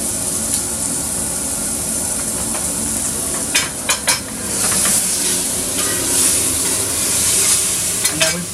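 A beef and pheasant burger patty sizzles loudly in a pan, a dense constant hiss with a few brief clinks and scrapes of utensils partway through.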